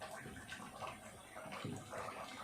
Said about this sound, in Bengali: জলটা এরকমভাবে যতটা ঝরে ঝরুক